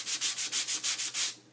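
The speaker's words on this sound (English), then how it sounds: "And then you're just going to start sanding." Rhythmic sanding strokes rasp across Core'dinations cardstock laid over diecuts, about eight quick, even back-and-forth passes up close, tapering off at the end without any talking.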